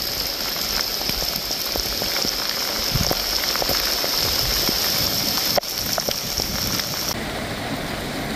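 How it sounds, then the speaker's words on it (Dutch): Steady rain pours down near the town centre of Hulst in the Netherlands, a dense continuous hiss with scattered drip impacts and one sharp knock partway through, no voices heard. "Even Hulst bij regen, vlakbij de binnenstad hier."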